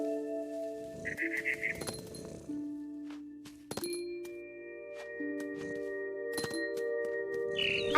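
A frightened bird in What Remains of Edith Finch lets out a few short honking, goose-like squawks, separated by quiet gaps and mixed with light glassy clinks and soft tonal game ambience.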